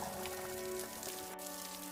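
Rain falling in a steady, even patter with faint tonal hums running underneath, continuous and unbroken for the brief stretch.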